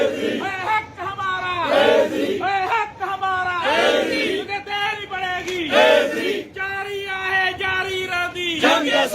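Representatives of the All Pakistan Local Government Workers Federation chant slogans in a loud, rhythmic call-and-response, a crowd of voices shouting in repeated bursts outdoors.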